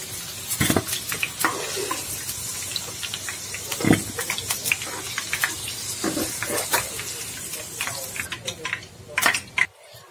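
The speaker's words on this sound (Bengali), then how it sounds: "অপর পাটটা আমি উল্টে ব্রাউন কালার করে ভেজে নেব।" Potato pieces frying in oil in a pan while being turned over to brown on the other side. Steady sizzling sits beneath repeated close scrapes and clatters of a utensil against the pan.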